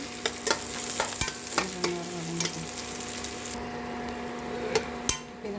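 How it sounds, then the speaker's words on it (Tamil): Bitter gourd sautéing in a pan, a soft continuous sizzle punctuated by sharp spatula taps and scrapes against the metal, close and fairly quiet. "நல்லா வதங்கிட்டு நல்லா வறுத்து எடுக்கலாம்"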